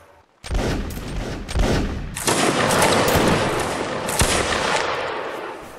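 Musket volley fire in the Napoleonic-era video game Napoleonic Wars during a line battle: a dense, loud crackle of many shots merging into a sustained roar of gunfire, with a few sharper reports standing out.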